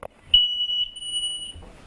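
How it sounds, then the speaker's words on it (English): A household smoke alarm sounds one long, piercing, steady electronic tone lasting over a second, loud and close, with faint rustling before and after. "kids simply don't hear the fire alarm that's meant to save their lives"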